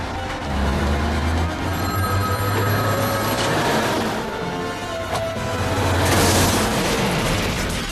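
A telephone rings in a tense scene from The Matrix, its repeated bell tones sounding over a loud, dense film soundtrack with deep rumbling and booming impacts, as if a truck were bearing down.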